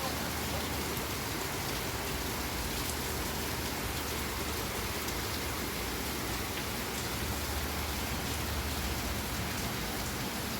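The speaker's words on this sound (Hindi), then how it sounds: "तो आज सुबह सुबह ही बारिश हो गई है, तो मौसम तो अच्छा हो गया है।" Morning rain falls steadily, a dense, even hiss of drops spread across the whole stretch with no break and no voices.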